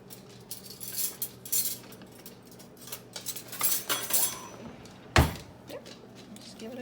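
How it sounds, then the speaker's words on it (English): A spoon stirs a tablespoon of seasoning rub in a bowl for nacho-making, with scattered light clinks and scrapes and one sharp knock near the end, while a voice talks faintly in the background. "You wanna grab a spoon and mix it up for me?"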